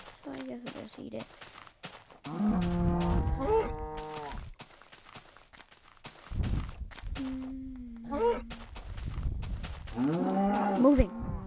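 A cow in a video game gives several long, drawn-out moos spaced over the stretch, with footsteps and a person talking in between the calls.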